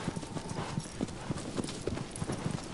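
A horse's hooves clip-clop in a steady, even gallop rhythm in Shadow of the Colossus, clear and fairly close with no talk over them.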